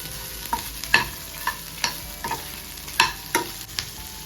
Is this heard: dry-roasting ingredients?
yes